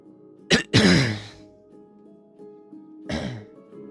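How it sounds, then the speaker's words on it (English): Someone clears their throat close by, a short rasp followed by a longer gravelly one, then another throat clearing a few seconds later. "Just gotta hydrate and clear my throat a bit"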